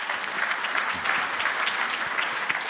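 Audience applause fills a conference hall at a presidential panel of a business forum, a steady burst of dense clapping without a break.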